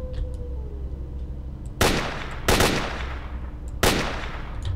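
Three loud, sharp gunshot blasts fire at irregular intervals in the S.T.A.L.K.E.R.: Lost Alpha video game, each ringing out over a steady low rumble.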